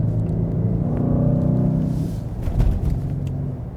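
A Mercedes-AMG GLC 63 S SUV rumbles steadily through dry road corners in Sport Plus mode, its engine note swelling and easing with a brief louder push near the end, heard from inside the cabin with no talking.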